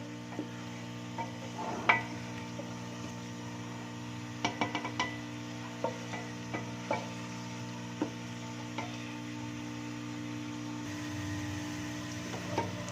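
Onions sizzle steadily as they brown in a pressure cooker, with occasional sharp clicks and clinks of stirring scattered over the low, continuous frying hiss.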